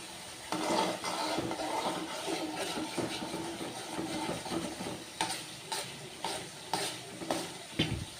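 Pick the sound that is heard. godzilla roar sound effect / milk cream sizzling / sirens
milk cream sizzling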